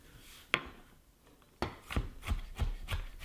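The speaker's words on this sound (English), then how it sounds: "just give it a real quick chop" Knife chopping onion on a cutting board, a single sharp chop followed after a pause by a quick run of about six rhythmic close-up chops, no talk.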